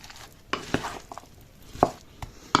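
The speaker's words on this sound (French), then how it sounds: "Et on mélange." A spoon mixing Polish szalot salad with mayonnaise in a bowl, giving a few sparse, sharp clinks and soft wet stirring sounds over a quiet background.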